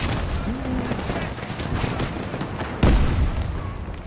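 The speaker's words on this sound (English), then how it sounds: "We're also getting shot by tanks and everything else." Gunfire and tank shots from a video game rattle in dense, continuous bursts, with a heavier boom near the end.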